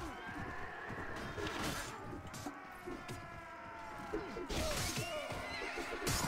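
A horse neighs and its hooves clatter amid a medieval battle in Mount & Blade: Warband with the Clash of Kings mod, the whinnies rising above a busy, fairly faint din of fighting.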